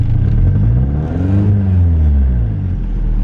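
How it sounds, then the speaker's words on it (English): A Nissan S13 idles with a deep exhaust rumble, then one rev climbs and falls back, its pitch sweeping up and down, close and loud and heard alone. "I'm going to go ahead and rev it twice"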